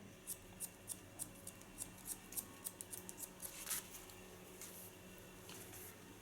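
Scissors snipping wet hair at the back of the head during an asymmetric haircut, a quick run of about a dozen crisp, close snips in steady rhythm, then a short pause and a few softer cuts.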